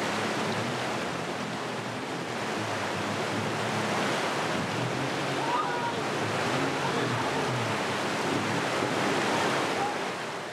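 A waterfall on a jungle river in Suriname roars as a continuous, loud wash of rushing water mixed with wind, and a voice can be heard faintly beneath it.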